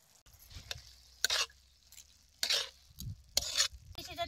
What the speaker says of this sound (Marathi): असं पसरवून सगळीकडे या भाजीवर भात टाकायचा